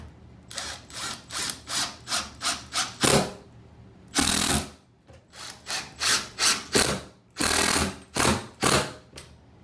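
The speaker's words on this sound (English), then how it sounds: "So now it's time to put the screws in." Screws are driven into a wall to mount a Speakman solid brass toilet paper holder. A drill or driver whirs in about a dozen short, loud, close bursts with brief pauses between them.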